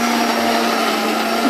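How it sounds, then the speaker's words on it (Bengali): A blender whirs continuously at high speed, mixing butter for homemade Dubai kunafa chocolate, a loud, steady motor whine that holds for the whole moment. "আগে বাটারটা দিয়ে ব্লেন্ড করো"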